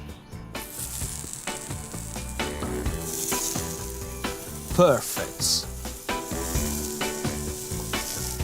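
Carrots sizzling in olive oil with salt on a hot griddle pan, a steady loud crackling fry that runs throughout with some stirring clatter, and a brief spoken word partway through.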